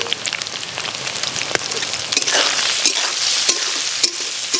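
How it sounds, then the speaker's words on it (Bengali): Soya chunks fry in hot oil with turmeric and salt, giving a dense, continuous sizzle and crackle up close, with sharp pops and occasional stirring scrapes, no voices over it. "সোয়াবিনটা ভেজে নেব। দিয়ে দিচ্ছি হলুদ, লবণ।"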